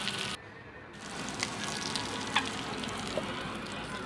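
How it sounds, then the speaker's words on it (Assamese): Chicken being stirred as it cooks in a pan gives a steady sizzle, broken by a brief drop near the start and marked by a few soft scraping clicks of the utensil. "অলপ টাইম মই চিকেনখিনি এনেকৈ লৰাই আছোঁ।"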